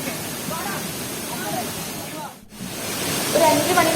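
Meenvallam waterfall near Kalladikode, Palakkad, roars as a continuous broadband rush of falling water, loud and steady, with a brief dip partway through before the flow noise returns.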